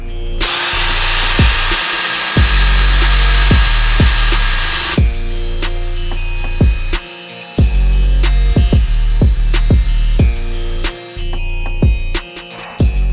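A powered polisher fitted with a small headlight pad works over a dirty car headlight with a polishing compound. A loud, close motor whine starts and stops in repeated bursts, with no talking.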